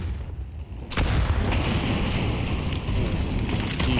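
Grenade blasts in a Counter-Strike match, a loud explosion bursting in about a second in and leaving a heavy rumbling roar that persists, with smaller cracks layered on top.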